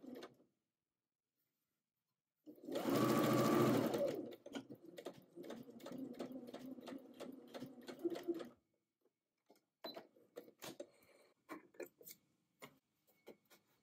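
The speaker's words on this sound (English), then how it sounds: "To ease the curve edge of the pocket, stitch 1/4 inch or 6 millimeters inside the seam line using a long machine" A sewing machine whirs in a loud, close burst, then slows into a rhythm of individual ticking stitches along a curved pocket edge, ending in scattered clicks and handling noises.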